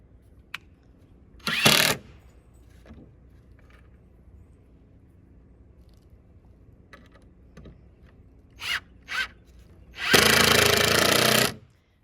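Screws 1 1/4 inch long driven into wooden supports for a round firepit or well cover, a short burst of driver whir, then two brief bursts and a longer run near the end, with quiet gaps between.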